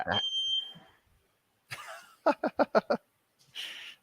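A smoke alarm with a dying battery gives a thin high chirp at the start, then a quiet gap and a run of short sharp taps, with voices nearby.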